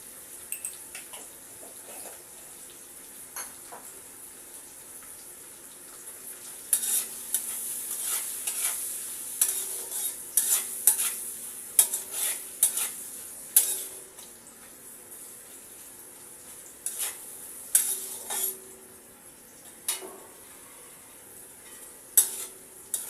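Fried rice ingredients being stir-fried with salt added. Quiet at first, then a close sizzle with repeated scraping stirs in uneven bursts, and no one talking.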